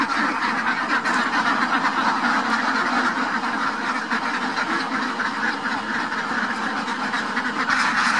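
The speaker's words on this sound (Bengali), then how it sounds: "দেখতে পারলেন খাকি ক্যাম্বেল হাঁস" Khaki Campbell ducks on a duck farm, a dense, continuous chorus of many quacks from a large flock, loud and steady throughout, with no speech.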